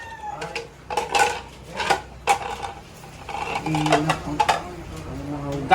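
Dishes, pots and pans being washed, with irregular clinks, clatters and scrapes of crockery and metal close by, while people talk over the clatter.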